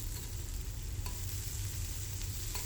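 Long beans being stirred into a frying mixture in a home pan, a steady low sizzle with soft scraping of the spoon running throughout, close and moderately loud, with no voices.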